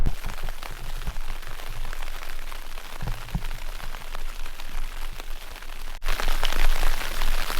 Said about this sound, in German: draußen hagelt's, wie man ganz gut hören kann